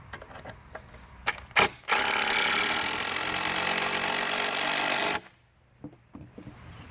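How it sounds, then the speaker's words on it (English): Power drill driving screws into wooden boards while building a chicken coop buffet: a few short clicks, then one loud, steady whirring burst lasting about three seconds, followed by quieter handling knocks. "then shoot you 2 screws in each part just like this"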